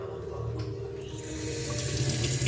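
Water runs steadily from the faucet of an alkaline water purifier, a continuous close hiss and splash that builds slightly louder toward the end.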